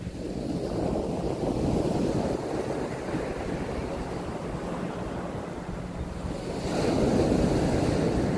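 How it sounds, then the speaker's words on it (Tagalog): Strong ocean surf rolling onto the shore at a windy coastal windmill site in Bangui, Ilocos Norte, a continuous loud roar of breaking waves with heavy wind buffeting the microphone and a fresh surge near the end. "pansinin nyo yung alon dito grabe lakas"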